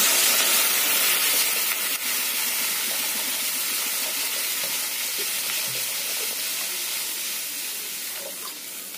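Water poured into a pan of frying potatoes and pointed gourd, giving a steady loud sizzle with bubbling and steam hiss that continues evenly throughout, with no talking.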